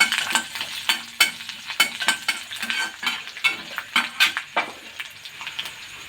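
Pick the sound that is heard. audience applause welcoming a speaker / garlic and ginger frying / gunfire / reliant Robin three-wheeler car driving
garlic and ginger frying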